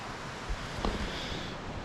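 Flash flood water rushing along toward a lake, heard as a steady broadband roar with no voices.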